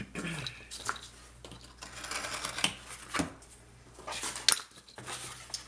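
Paper being cut for a scrapbook furniture piece: scattered crisp snips and rustles, close and fairly quiet, with handling noises between cuts.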